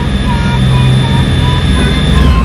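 Amphibious tour vehicle in Ketchikan, Alaska, with one engine and two transmissions, running on its propeller as it climbs a ramp out of the water; a loud, steady engine drone with a low rumble and a constant tonal whine.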